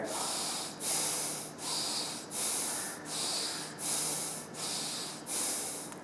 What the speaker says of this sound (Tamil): கண்ணை மூடிட்டு நல்லா மூச்சை உள்ளெழுத்து மூச்சை வெளியிடுங்க.